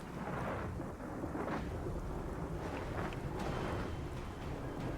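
A thunderstorm approaches in Gears of War 4, with rolling thunder rumbling under a continuous wash of heavy rain and wind, loud and unbroken throughout.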